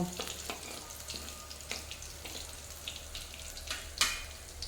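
Potatoes and onions fry in a pan at home for chowmein, a soft steady sizzle with occasional spatula scrapes and stirring clicks, close but quiet, no voices.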